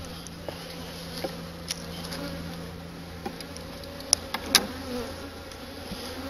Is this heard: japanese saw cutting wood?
no